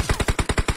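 Rapid automatic gunfire from a PUBG match, about nine evenly spaced shots in under a second, loud and close with no talk over it.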